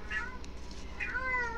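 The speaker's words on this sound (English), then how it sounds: "Quiet, cat," A house cat meows twice indoors, a short cry followed by a longer, drawn-out wail, moderately close but quiet over a low steady hum.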